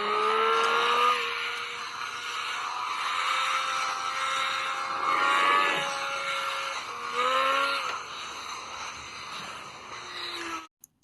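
A car accelerates hard down a race track straightaway, its engine note climbing through several gear changes, loud and steady, before cutting off abruptly at the end.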